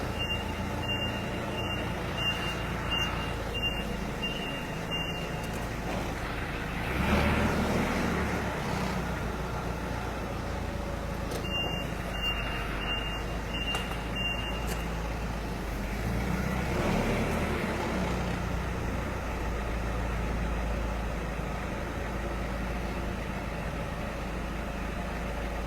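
Forklift driving with a faint, distant engine hum and two separate runs of repeated high reversing beeps in a regular pulsing rhythm, quiet overall.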